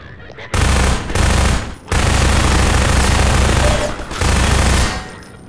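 Sustained automatic gunfire from the video game Half-Life 2 comes in loud bursts separated by short gaps, with rapid, dense shots that stop and restart several times.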